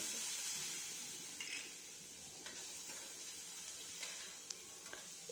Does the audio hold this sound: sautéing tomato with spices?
yes